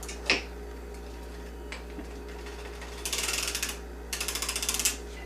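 A hand-cranked circular sock knitting machine knitting around, giving bursts of rapid rhythmic ratcheting clicks with a few sharper knocks between them, close up and with no talk.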